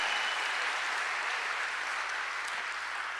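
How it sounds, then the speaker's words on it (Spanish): Congregation clapping together in a church service, a steady wash of many hands heard at a moderate distance, even and continuous with no voices on top. "Démosle palmas al Señor"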